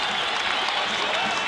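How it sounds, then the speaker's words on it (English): A crowd at Hilton Coliseum roars and applauds steadily during an Iowa vs Iowa State collegiate wrestling dual, a dense wash of cheering with no break across the short stretch. "Big roar from the crowd at Hilton Coliseum."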